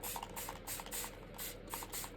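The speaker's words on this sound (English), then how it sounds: "what I'm going to do now is spray my paper" Short bursts of ink mist sprayed from a pump bottle onto paper, six or seven quick hissing puffs in a loose rhythm, close and fairly soft.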